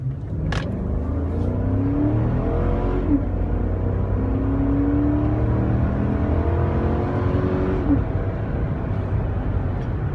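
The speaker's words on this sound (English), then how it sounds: "I did mention that it has a big V8" Big V8 engine of a 2015 Chevrolet Suburban LT revving and accelerating, with a steady low rumble and rising then falling engine pitch through several gear changes, heard from inside, with no talking.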